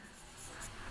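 A short scratch of writing on a board during an Arabic vocabulary lesson, brief and fairly soft, alone without speech.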